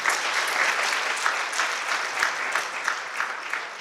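An audience claps for a performer at a trophy award ceremony, a full, steady round of applause from many hands that carries on without a break.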